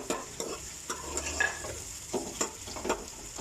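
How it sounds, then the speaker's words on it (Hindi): Onions frying in ghee inside a clay pot for a matka meat dish, with steady sizzling broken by repeated scraping stirs and light clinks of a utensil against the pot, close and fairly loud, no talking. "ये प्याज हम इसमें डालने लगे हैं घी में, जिसको कि हमने ब्राउन करना है, गोल्डन ब्राउन करना है इस प्याज को"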